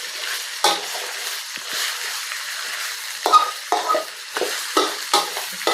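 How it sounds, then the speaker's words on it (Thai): Pork stir-fried in a pan for a Thai dish with shrimp paste and sator beans: loud sizzling punctuated by repeated scraping stirs of a spatula, close up and with no talking. "ใส่หมูลงไปเลยนะ อ่ะ เราจะค่อยๆผัด"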